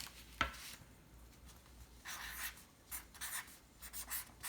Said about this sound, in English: So we'll write down spade.